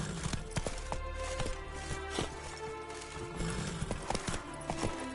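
Galloping hooves in The Witcher 3 drum in quick, irregular clip-clop beats over a busy background of game sound, moderately close and fairly quiet.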